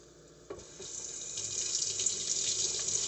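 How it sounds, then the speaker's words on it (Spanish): Onion rinsed under a running kitchen tap, with water gushing steadily into the sink after a brief knock at the start, close and continuous. "Lavando la cebolla."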